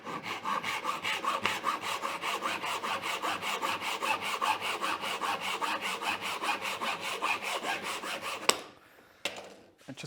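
A hand saw cuts wood held on a bench hook with rapid, even rasping strokes, close and loud, continuing for about eight seconds before stopping with a clack as the piece comes free.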